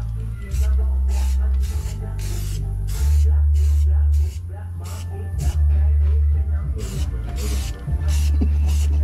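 Short bursts of aerosol spray hiss onto plastic trim on a Raptor 700R quad, a dozen or so quick irregular spritzes, near and loud over a constant low engine hum.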